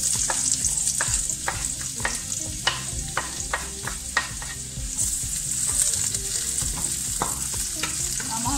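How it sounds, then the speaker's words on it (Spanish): Red onion sautéed in a pan for risotto, giving a continuous loud sizzle with repeated sharp scrapes and taps of a spatula, close up and with no voices. "Vamos a sofreír nuestra cebollita morada"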